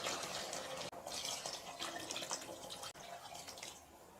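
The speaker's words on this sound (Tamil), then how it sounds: "தண்ணி ஆட் பண்ணி நல்லா கிளறி விடுங்க." Water runs steadily into basmati rice for chicken biryani in a cooker, a faint continuous splashing pour with a couple of brief breaks, no talk over it.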